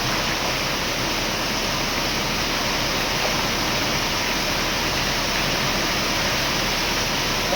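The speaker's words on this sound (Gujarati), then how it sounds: "ફૂલ વરસાદ." Heavy rain pours down in Bahucharaji, a dense, steady roar that stays loud and unbroken throughout, with no voices.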